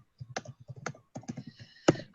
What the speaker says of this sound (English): I'm going to just type a couple of things